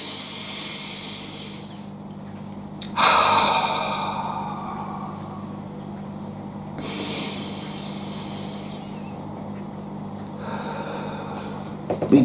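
Deep breaths drawn in through the nose sound as several loud, airy hissing inhales and exhales, spaced a few seconds apart, close and with no talk.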